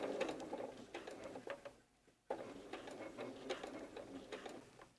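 Sewing machine stitching fabric around a curve for a doll, a close rapid mechanical chatter in short bursts that pauses briefly while the fabric is pivoted, then resumes.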